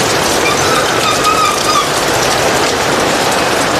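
Steady rain falling over a street market in Hanoi, a loud, dense continuous patter with faint higher tones drifting through early on, no voices.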